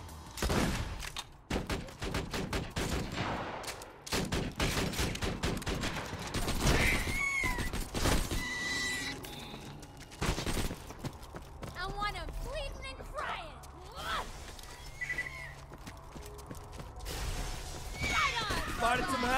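Turret gunfire in Borderlands 2 rattles out in rapid volleys amid chaotic game effects, loudest early on and continuing intermittently, with voices talking over the action.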